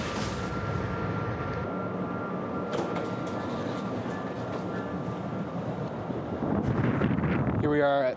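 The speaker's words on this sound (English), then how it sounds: "A little bit breezy down here, but really not too bad." Wind buffets the microphone at Pecos Junction light rail station in Denver, making a continuous low rumbling roar that runs through the whole stretch and grows slightly stronger near the end, with a voice talking faintly underneath.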